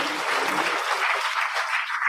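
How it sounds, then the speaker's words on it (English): Dense, steady applause from a large audience at an award ceremony, continuous and fairly loud throughout with no talking over it. "give them a big round of applause while they are seating"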